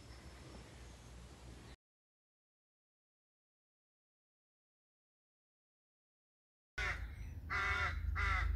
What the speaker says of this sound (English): So this is a rookery.